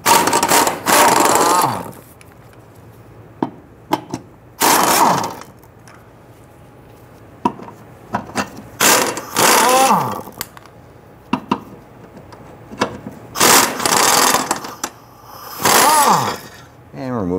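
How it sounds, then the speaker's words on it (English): A 13 mm socket turns out four transmission mount bolts on a 1994-2004 Ford Mustang, giving several bursts of loud ratcheting or power-tool whirring separated by quiet gaps. A few short knocks are heard between bursts, with no talking. "Using a 13 millimeter socket, let's loosen and remove our four bolts."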